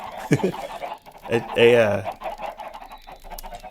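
Video game chickens hatched from launched eggs cluck in short, bright bursts, with one louder squawk in the middle, close and clear amid background game sounds.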